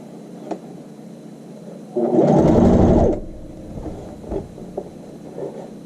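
A sewing machine stitches a hem on child's shorts in one loud, close burst of about a second of rapid whirring, with quieter handling and faint clicks before and after.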